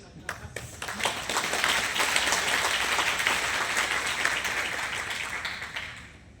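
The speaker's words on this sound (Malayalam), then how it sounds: "ഇങ്ങനെ മെല്ലെ മെല്ലെ കൈയടിക്കുന്നവർക്കൊന്നും" Audience clapping slowly in a business seminar hall: a fairly faint, continuous patter of many hands, with a voice speaking around it.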